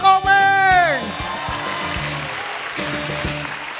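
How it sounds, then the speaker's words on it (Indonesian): A studio crowd at a televised stand-up comedy grand final breaks into clapping and cheering, starting with a loud whooping shout and a rising tone, then settling into a steady rumble of applause with music under it. "beri tepuk tangan untuk Bang Komeng"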